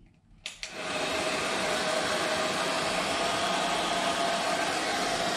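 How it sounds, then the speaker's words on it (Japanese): A hotel hair dryer in a standard king room at the Hyatt Centric Ginza Tokyo clicks on and then blows with a loud, steady, airy roar that holds without a break. "じゃあさっき言ってたこのドライヤーの強さ見てみたいと思います"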